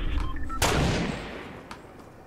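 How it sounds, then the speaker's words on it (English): Gunfire in Fortnite Battle Royale, one loud sharp shot that rings out and decays over about a second, with a fainter crack afterward. "Shots."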